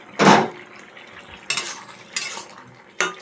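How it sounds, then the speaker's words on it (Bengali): A lid is lifted off a pot of bottle gourd cooking with egg, giving a loud metallic clank followed by several sharper clinks of metal on the pot, spaced a second or so apart over a faint simmer. "ঢাকনাটা খুলে দিলাম"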